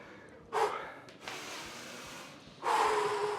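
Heavy, ragged gasping breaths right after an intense HIIT workout, close and loud, with sharp inhales and long exhales in uneven bursts and no talk.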